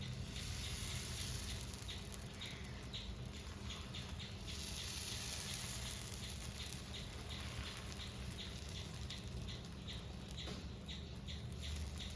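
Roti batter spread Kerala style on an oiled stone griddle makes a steady, close sizzle, dotted with irregular tiny crackles and pops that continue evenly without any talk.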